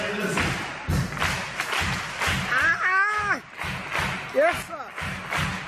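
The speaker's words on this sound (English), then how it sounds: "Now, we're getting ready to hands up. Three claps." A group claps in unison during a morning gathering, sharp rhythmic hand strikes repeating through the clip, mixed with loud talking and shouted voices nearby.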